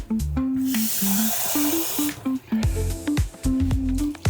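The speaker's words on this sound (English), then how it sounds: "I'm gonna add a little bit more until the meatballs are covered with water." Water is poured over meatballs in a pan, making a loud, close, gushing hiss for about two seconds, followed by scattered squishing and sloshing with faint tonal sounds.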